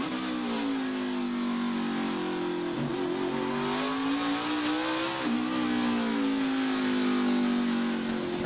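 A NASCAR Xfinity race car engine at Indianapolis drones loud and close under throttle, its pitch dipping and climbing as the driver lifts and reapplies power through the corners, with no talk.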